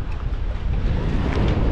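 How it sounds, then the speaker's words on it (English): Strong wind gusts outdoors beside the water in the late afternoon, a loud, continuous rumbling roar buffeting the microphone with no break. "Man, it's windy and it's cool."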